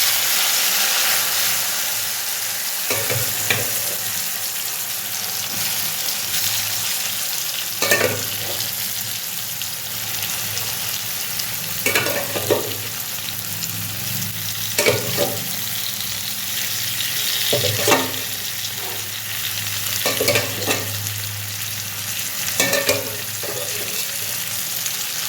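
Papaya stir-frying in a pan with oil, a steady close sizzle and hiss broken by repeated scraping stirs every few seconds; no voices.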